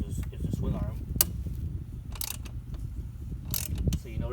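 Nut being spun by hand onto a motorcycle swing arm through-bolt while fitting a shifter shaft bracket on a Honda Monkey: close, continuous metallic rattling and ratcheting with a few sharp clicks, steady throughout.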